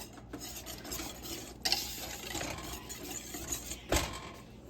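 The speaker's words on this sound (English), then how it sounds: "you're going to continue to stir this the whole time" A spoon stirs bubbling strawberry pie filling with lemon juice in a pot, making a steady scraping and swishing with a couple of sharper knocks against the pot, close and fairly quiet.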